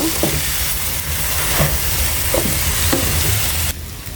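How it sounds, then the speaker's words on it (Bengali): Rice frying with fish in a pan for fish khichuri, a loud, close, constant sizzle with occasional stirring scrapes, dropping in level near the end, no talk. "তো আমি অফ ক্যামেরায় ভালোভাবে চালে চালটা ভেজে নিচ্ছি মাছের সাথে"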